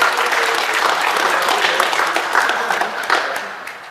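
A crowd at a youth football tournament applauds steadily for a player named in the team draw, with dense sustained clapping and some voices underneath.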